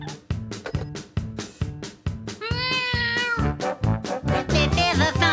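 In a cartoon silly song about a pregnant cat, sung meows ring out over a bouncy, thumping musical beat, with one long drawn-out meow in the middle.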